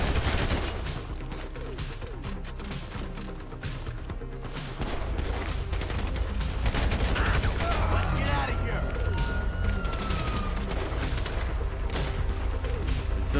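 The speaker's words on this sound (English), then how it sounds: "Got another guy here shooting." Rapid gunfire from the video game GTA V on Xbox 360 fills the scene in dense bursts and volleys that grow heavier partway through, with voices underneath.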